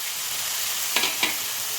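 Chicken pieces frying in oil for chicken Manchurian give a continuous near sizzle, with two brief sharp stirring scrapes partway through.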